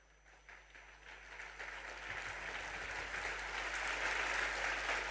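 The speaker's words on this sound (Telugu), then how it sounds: "బతుకున్న వాళ్ళు కొంతమంది చప్పట్లు కొట్టారు." A congregation at a church sermon breaks into applause, starting faint and swelling into steady, moderately distant clapping that holds to the end.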